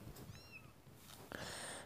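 Kitten meowing in the Daily Kitten video game: a couple of short, high-pitched cartoonish meows close up, followed by a brighter sustained electronic chime-like tone from the game.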